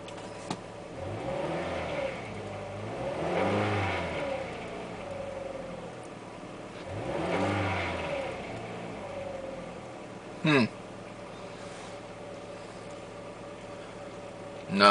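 A Chevy HHR engine with a check engine fault idles and revs up twice in rising, falling swells, then settles; a sharp clunk sounds near the end.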